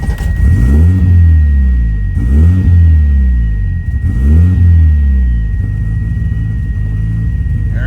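A tuned 500 hp car engine, fitted with a redone exhaust, revs hard in three loud rising bursts up to a rev-limiter setpoint. It then settles into a steady rumbling idle, close by and with no speech.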